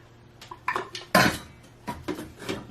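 Glass pitchers of candle wax clink as they are set down one after another into metal pots, several close, ringing knocks in an irregular rhythm with one louder clunk midway, no voices.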